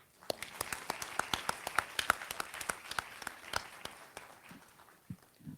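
Graduates at a 2021 graduation ceremony break into a round of applause, a scattered burst of individual hand claps that swells, then thins out toward the end, with a few louder close claps.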